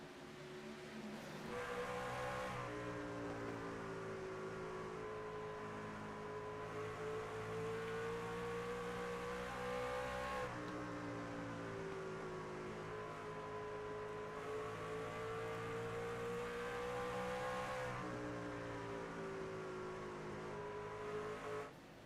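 Race trucks in a sim racing truck series event run as a steady engine drone with harmonic whine, swelling and easing as they pass and jostle bumper to bumper, continuous for the whole stretch with no talk.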